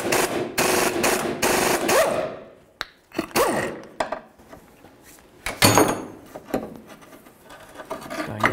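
A pitman arm puller is tightened and driven to pop the pitman arm off a Chevy S-10, heard as repeated close ratcheting bursts and metallic scrapes, with pauses and shifting clunks between.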